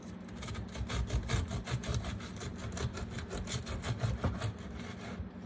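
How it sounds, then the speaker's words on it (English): A bread knife saws through a crusty sourdough loaf with inclusions, making close, rhythmic rasping back-and-forth strokes that continue steadily without any talking. "you just let the knife do the work for you"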